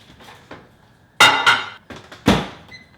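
A microwave door being handled in a home kitchen: a few sharp thunks and clacks, two of them louder, with a short beep at the end. No voices.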